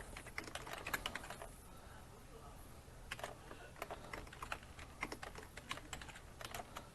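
Soft, quick keystrokes on a computer keyboard as a new password is typed, irregular clusters of light clicks with a short pause partway through, quiet and close with no voices.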